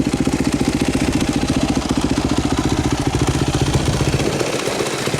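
A Yamaha WR250 motorcycle engine idles loud and close with a steady, rapid pulsing thump throughout, plus a slight change in tone near the end.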